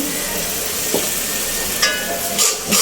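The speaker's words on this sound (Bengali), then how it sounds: "মশলাটা আমি ভালোভাবে কষিয়ে নেব" Ground turmeric, chili powder and coriander powder frying and being stirred in a pan, a steady soft sizzle throughout with a few brief scraping stirs, close and moderately loud, no voices.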